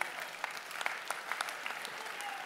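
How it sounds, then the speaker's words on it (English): Light, sparse applause from a live show audience, scattered individual claps fairly quiet and distant, with crowd murmur underneath. "Give her a round of applause for helping me."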